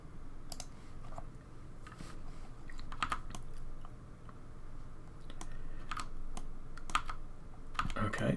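Computer keyboard keys clack in scattered short taps and small clusters while working in 3D modeling software, close and fairly quiet against a soft background.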